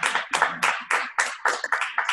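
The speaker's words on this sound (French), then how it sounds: "Un petit applaudissement pour vous qui nous avez écoutés." A few people clap in a sparse, uneven rhythm at a church service, about a dozen distinct close hand claps spread over two seconds with no talk.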